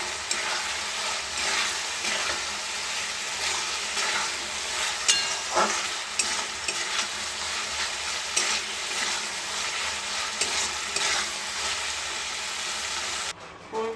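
Cauliflower sizzles steadily in hot oil in a pan while being stirred, with continuous frying hiss and occasional scraping clicks of the utensil, close and fairly even throughout.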